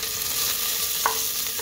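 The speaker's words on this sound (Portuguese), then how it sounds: "Agora eu vou colocar a cebola." Onion is added to garlic frying in a pan, bringing a steady, fairly loud sizzle with a single brief clink partway through.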